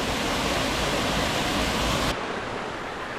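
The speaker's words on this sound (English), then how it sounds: "Some nice little waterfalls on this creek." A loud, steady rush of small waterfalls on a creek in the Upper Buffalo Wilderness pours on close by, then the level drops abruptly to a softer wash of water for the final second.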